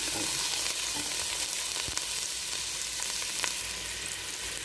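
Garlic and onion frying in oil in a pan for a potato and eggplant dish, a dense, even sizzle heard up close with a couple of faint utensil taps.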